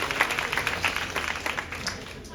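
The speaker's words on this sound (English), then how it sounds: "let's clap it up for everybody that did one time." Audience applause at a stand-up comedy show, a short burst of scattered clapping from a crowd that tapers off over a couple of seconds.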